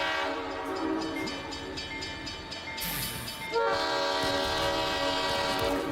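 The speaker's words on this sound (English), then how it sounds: "Choo choo, you hear that little train? That's for you guys." A train-themed stream alert plays as a steady chugging locomotive with repeated clickety-clack and a sustained whistle-like horn tone, loud and continuous with no talk over it.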